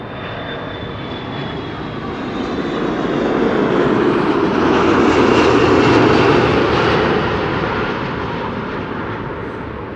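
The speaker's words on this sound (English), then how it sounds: "Delta Airlines flight 90, arriving from Orlando, Florida." A Delta Airlines airliner arriving from Orlando lands at Amsterdam Schiphol Airport. Its loud jet engine roar swells as it passes nearby and then fades steadily, with no talking.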